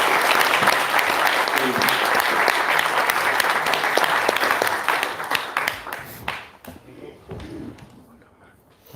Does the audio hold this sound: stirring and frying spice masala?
no